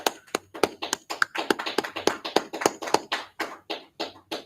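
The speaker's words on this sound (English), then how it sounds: "Let's clap it up." Rhythmic hand clapping from a small group at an Israelite brotherhood class in Houston, steady sharp claps roughly three per second, close and fairly loud, with no talking.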